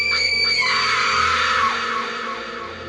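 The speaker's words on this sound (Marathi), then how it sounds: "ते पाहून सायली किंचाळली." A woman lets out one long, loud, shrill scream held for nearly three seconds before tapering slightly, heard alone.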